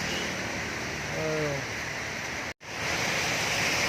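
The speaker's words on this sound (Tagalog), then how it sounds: "It's raining, it's raining man." Steady rain hiss during a rainy motorbike ride from Davao City to Agusan del Sur, a broad continuous wash like falling water, with a faint voice murmur early on and a brief dropout midway.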